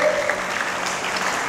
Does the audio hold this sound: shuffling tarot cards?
no